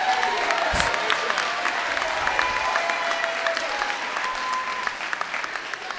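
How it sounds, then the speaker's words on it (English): An audience at a summer institute event claps steadily for about six seconds, a dense wash of applause with scattered cheers and a brief louder burst early on, fading slightly toward the end. "let's put those hands together and clap crazy and say, thank you, ASAP."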